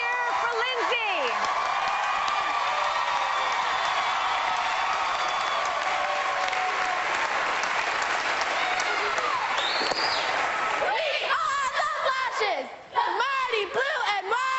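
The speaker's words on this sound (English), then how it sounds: "Let's hear a big, great big cheer for Lindsay." A studio audience on The Biggest Loser cheers, whoops and applauds loudly for Lindsay and the Fillmore High School cheerleading team, a long, sustained roar of clapping and shouts, with voices breaking through near the end.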